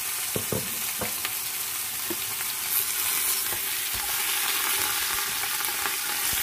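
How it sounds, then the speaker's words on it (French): Red meat sizzles steadily in vegetable oil in a pot, a dense hiss with a few crackles and spoon clicks early on, loud and close throughout with no voices. "Je vais faire revenir la viande seule pour quelques minutes avant d'ajouter les autres ingrédients."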